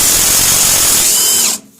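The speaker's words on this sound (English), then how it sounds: "So we'll get the impact on it" Pneumatic impact wrench spinning off a sway bar link nut on a Jeep TJ during a lift kit install, one steady loud high-pitched whir lasting over a second and a half, then cutting off abruptly.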